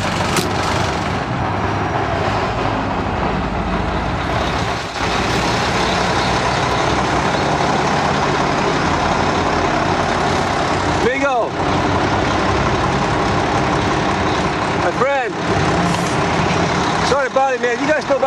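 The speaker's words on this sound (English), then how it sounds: "the law that says you can't keep your engine idling for more than 3 minutes" A truck engine idling, a steady low diesel rumble running throughout, broken by a few sharp hissing air-brake releases near the end, with voices talking over it.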